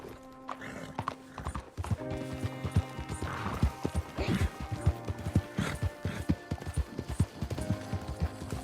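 Horse hooves clip-clop in a steady, brisk rhythm with a whinny near the start, close and clear over faint game ambience and music in the video game Red Dead Redemption 2.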